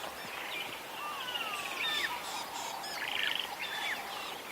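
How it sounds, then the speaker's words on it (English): Several wild birds call and chirp together in the African bush as a drongo mobs a Wahlberg's eagle; varied whistles and trills overlap at moderate distance over a steady outdoor hiss, with no talking. "now the drongo is just getting all the other birds involved. You can hear all the different calls"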